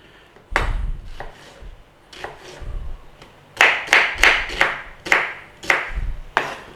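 A kitchen knife cutting onions into cubes on a board gives a few spaced chops at first, then a quicker run of about eight crisp, close, evenly paced chops with no talking.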